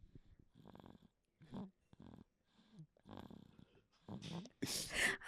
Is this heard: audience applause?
no